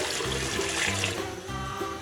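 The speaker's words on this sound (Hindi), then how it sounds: "इसमें हमने पानी ऐड करना है" Water pours into a pot of lentils being prepared for shami kabab, making a continuous splashing, gurgling flow throughout, with a low tonal hum underneath.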